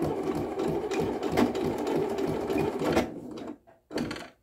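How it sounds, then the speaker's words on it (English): A sewing machine runs close and steady, stitching forward with a rapid mechanical chatter. It stops, then sews a short backstitch burst, pauses, and runs briefly again. "I'm going to go forward for about 4 or 5 stitches, and then I'm going to go back, and then I'm going to go forward again"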